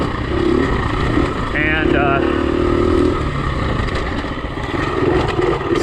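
KTM 350 EXC-F dirt bike held in third gear, its engine droning steadily and loudly throughout with slight swells in revs, while a rider talks over it.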